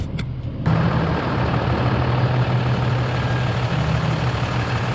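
A truck engine idles and rumbles steadily close by as the vehicle pulls out, a low continuous drone after a brief quiet start.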